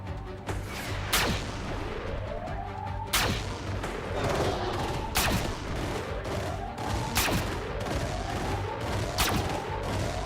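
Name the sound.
gunfire in the video game Xenonauts 2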